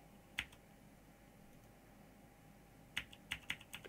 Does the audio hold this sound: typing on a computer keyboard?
yes